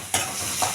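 Spices and turmeric powder sauté in a pan for a masala kuzhambu, with a steady sizzle broken by two quick scraping stirs close by.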